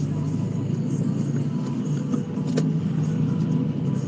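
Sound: road traffic passing below an overpass

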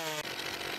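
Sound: chainsaw from the video game Forstwirtschaft 2017

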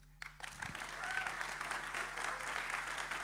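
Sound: audience applause at a campaign meeting

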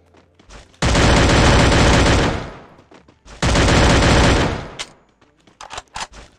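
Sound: gunfire from the video game Free Fire

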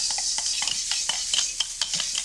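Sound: onions being tossed and stir-fried in a wok

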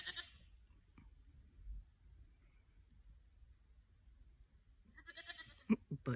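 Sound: goats bleating

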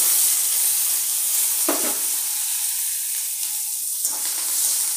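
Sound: onions frying in oil in a wok

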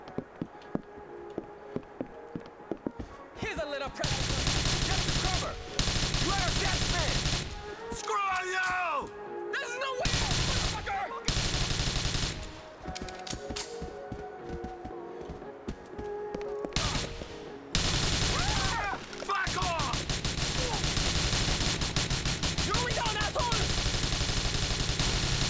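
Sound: gunfire in video game Grand Theft Auto IV

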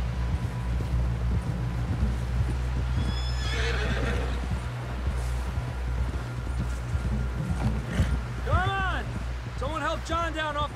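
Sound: horse riding and neighing in Red Dead Redemption 2 video game

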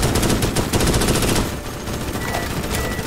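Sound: gunfire in a video game

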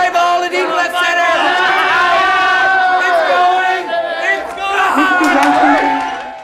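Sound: film patients cheering along during a ball game

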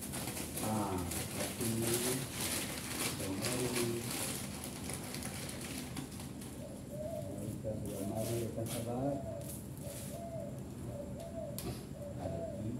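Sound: pigeons cooing

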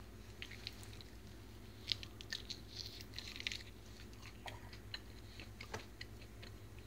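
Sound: chewing cubanelle pepper seeds

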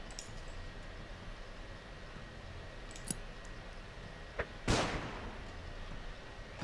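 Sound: flashbang grenade explosion in video game Underrail

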